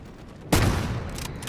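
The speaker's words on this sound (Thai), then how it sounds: "เมื่อผมลองสไนเปอร์ R93 ที่ดูปรับให้ดาเมจ100 ผลลัพธ์จะเป็นยังไงไปชมกันครับ" A single loud, sharp shot from the R93 sniper rifle in the video game Delta Force, followed by a long, rolling echo tail that fades slowly.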